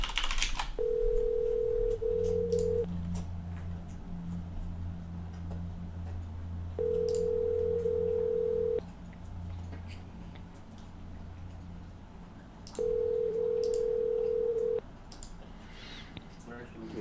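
Outgoing phone call to Ireland ringing out, three evenly spaced long steady ring tones, clear and moderately loud, with faint background noise between them.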